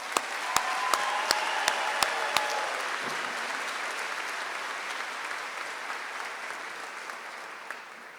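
A high school graduation ceremony crowd applauds, a broad wash of clapping in a large space with a few sharp nearby claps standing out at first, sustained and gradually easing toward the end.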